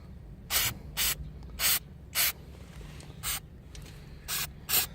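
Short bursts of cleaner sprayed onto a GY6 scooter body, eight separate hissing puffs spaced irregularly at close range over a low background rumble, no talking.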